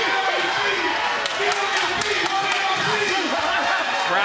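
Arena crowd at an OTX fight night in Houston cheering and clapping for a hometown fighter, a dense steady roar with sharp claps and shouts rising out of it, loud throughout.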